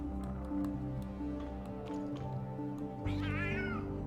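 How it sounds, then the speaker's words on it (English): Cat meowing in the video game Tower of Fantasy on PS5, several drawn-out meows with a rising wavering call near the end, clear over game ambience. "What is those cat noises I keep hearing?"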